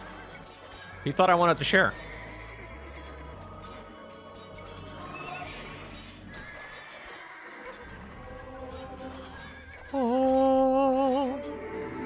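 Horses neighing in the strategy video game Age of Empires 2, two shrill whinnies, one early and one near the end, rising over constant game sound effects while people talk throughout.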